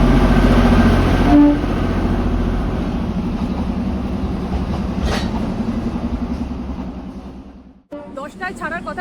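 The Darjeeling toy train pulls into NJP station with a loud, steady rumble and rhythmic clatter close by, followed by a brief pause and then faster clicking.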